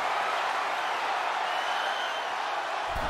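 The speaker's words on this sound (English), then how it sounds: "The roar of this crowd." A wrestling arena crowd in WWE 2K23 gives a continuous, loud roar, a dense wash of cheering that stays steady throughout.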